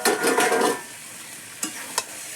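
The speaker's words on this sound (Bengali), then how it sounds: "এই পেঁয়াজ কুচি, ক্যাপসিকাম কুচি, টমেটো কুচি একবারে দিয়ে দেবো। দিয়ে আমি ঢাকা দিয়ে এবার কষাবো।" Chopped onion, capsicum and tomato hit hot oil for korai chicken, a burst of loud sizzling that fades within a second, followed by two sharp utensil clicks against the pan, with no speech.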